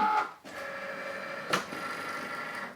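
A vinyl cutting machine cuts a decal from vinyl on a mat, giving a steady whirring motor hum with a brief louder sweep of the carriage partway through, close and alone with no talk.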